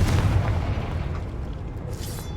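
A low, rumbling explosive boom from a Confringo fire spell cast in a cave in Hogwarts Legacy hits loudly at the start and then fades into a lingering dull roar, with no talking over it.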